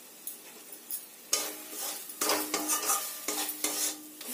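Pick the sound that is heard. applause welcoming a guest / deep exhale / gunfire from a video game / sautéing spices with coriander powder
sautéing spices with coriander powder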